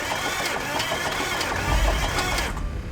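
A heavily modified Cummins diesel engine with a broken piston runs rough, with a loud, continuous mechanical clatter and irregular knocking, as though loose parts are flopping around inside.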